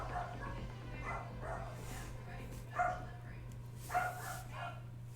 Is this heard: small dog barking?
yes